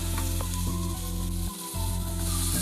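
Ginger and garlic paste fries in hot oil for cabbage gobi manchurian, giving a steady, loud sizzle with a constant low hum beneath and a brief dip in the middle. No one speaks.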